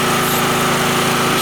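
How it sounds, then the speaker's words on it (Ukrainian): Angle grinder with a brushed motor powered from a portable generator, giving a loud, steady high-pitched whine that runs evenly and alone for the whole short stretch. "шліфмашину, тут щіточний двигун і, звісно, є пускові струми"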